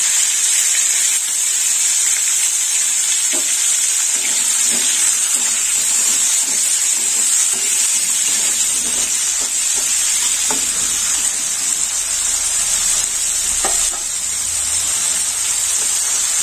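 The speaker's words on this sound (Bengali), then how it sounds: "তেল গরম হয়ে গেছে, এবার আমি উচ্ছেগুলো ভেজে নেব।" Bitter gourd cut into round slices frying in hot oil, a steady loud sizzle throughout with a few soft clinks of stirring and no voices.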